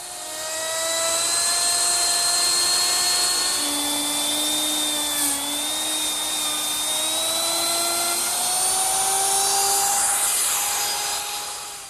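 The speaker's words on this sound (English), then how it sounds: "I use my router with a laminate trimming bit" A router fitted with a ball-bearing-guided laminate trimming bit trims laminate flush along a wooden edge while building a sink cabinet. A loud, steady high whine runs unbroken throughout, close up and alone, with no talking.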